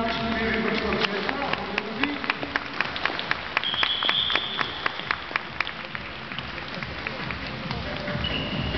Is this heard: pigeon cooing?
no